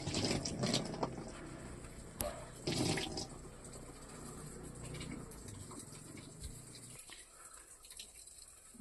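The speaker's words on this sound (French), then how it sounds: "Alors Fred, il fait ses essais, il arrose." Water sprayed from a hose onto a camping-car roof coated in polyane sheeting, a steady broadband splashing and pattering that swells in places, then drops off sharply near the end.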